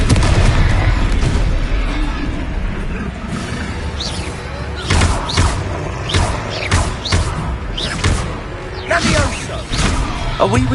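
Confringo fire-blast spells from a wizarding video game, with repeated booming explosions and thuds in irregular bursts during a boss fight, heard under shouted voices and ongoing combat noise.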